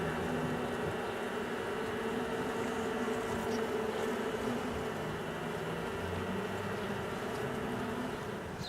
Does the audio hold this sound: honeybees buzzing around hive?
yes